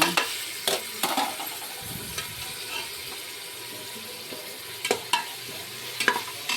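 Ginger, garlic, tomatoes and green chilies sauté in a pan for prawn biryani, a steady close sizzle broken by several sharp spoon scrapes and knocks against the pan as it is stirred.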